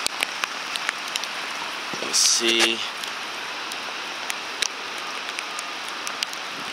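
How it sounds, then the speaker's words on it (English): Heavy rain pours down during a rainstorm in the Bronx, New York, a dense steady hiss of downpour throughout, with someone speaking briefly and a short rustling clatter partway through. "It is really pouring down rain in Washington Heights right now."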